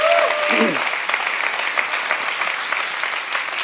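Audience applause after a motivational talk, a dense steady wash of clapping from a large crowd, loud and sustained throughout, with a brief voice at the very start.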